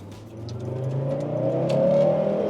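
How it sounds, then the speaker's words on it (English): A 1990s Volvo station wagon with a turbocharged five-cylinder engine accelerates, its growl rising steadily in pitch and loudness over a couple of seconds, heard from inside the car with no talking. "this thing buggers off with that little 5-cylinder growl"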